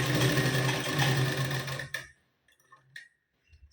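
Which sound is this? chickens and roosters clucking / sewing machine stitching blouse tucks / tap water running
sewing machine stitching blouse tucks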